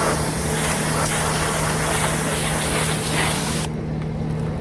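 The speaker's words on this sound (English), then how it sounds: "Here's the next step, is my pressure washer." A pressure washer sprays an engine that is out of the car and mounted on a stand. A loud, steady hiss of water jet runs continuously and cuts off abruptly near the end.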